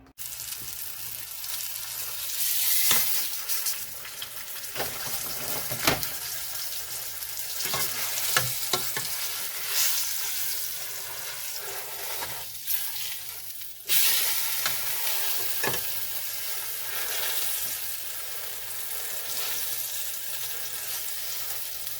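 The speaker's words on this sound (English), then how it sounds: "So right now I'm going to sear it." A rubbed pot roast sears in a hot pan with a continuous loud sizzle and crackle, broken by occasional clatter and scraping as it is moved, close up with no talking.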